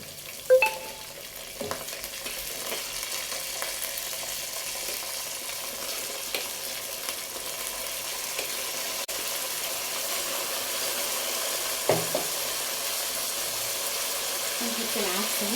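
Washed rice tipped into a pot of fried vermicelli for koshari and stirred, giving a soft continuous sizzle and scraping with a few brief clunks from the pot.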